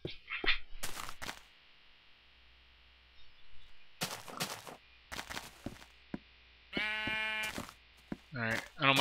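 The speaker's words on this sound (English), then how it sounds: "Alright, I don't mind the sheep as much." Sheep in Minecraft bleating in a short series of close, tonal game bleats near the end, with someone talking in bursts beforehand and brief thumping effects.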